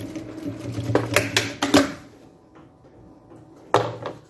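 A sewing machine stitches one side of a sublimated cleat bag, running in a couple of short rapid bursts with clunks between them, then falling quiet before a final brief thump.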